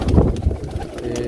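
Pigeons cooing at close range in a rooftop loft of breeding pairs, soft throaty coos running continuously for a moment with no talk over them.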